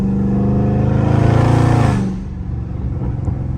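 Loud Dodge Scat Pack V8 revving hard at night, a deep rising engine roar that drops off sharply after two seconds into a lower rumbling idle.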